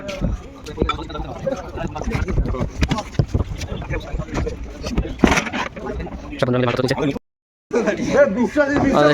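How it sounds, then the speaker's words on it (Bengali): A passenger launch boat pulls away from a river ghat, its engine and water noise rumbling beneath near, almost constant talk, with wind buffeting the microphone. "দেখতে দেখতে আমাদের লঞ্চ ছেড়ে দিয়েছে"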